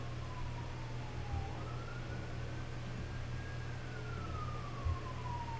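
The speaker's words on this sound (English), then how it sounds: "Sorry if you hear that siren outside." A siren wails outside, its single tone gliding slowly up and down, steady and moderately distant under a constant low hum throughout.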